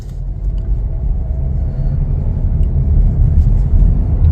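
A 2023 Chevrolet Blazer 2LT driving on the road makes a loud, steady low rumble of engine and tyre noise inside the cabin, with no talking.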